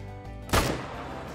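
A single sharp rifle shot cracks out at a deer during a hunt for sika and fallow deer, loud and close, with a short ringing decay trailing off into quiet outdoor air.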